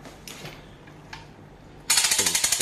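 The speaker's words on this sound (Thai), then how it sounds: "เป็นการหมุนนะครับหมุนด้วยมือนะครับอันนี้จะเป็นการหมุนขึ้นนะครับ" A hand-cranked winch on an SJY 10 aluminum alloy rescue tripod, quiet scattered knocks and then a loud, even run of ratchet clicks as the crank turns.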